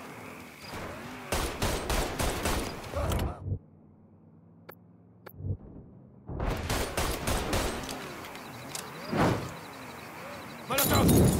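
Gunfire in the open-world game Mafia 3, loud bursts of shots and impacts with a sudden silent gap in the middle, then more shooting, with voices speaking in between.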